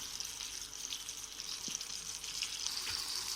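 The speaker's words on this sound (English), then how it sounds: "Now let's mix this well with our gravy." Fried chicken pieces are stirred into a simmering gravy, giving a steady, close hiss of frying with faint wet stirring noises and no talk.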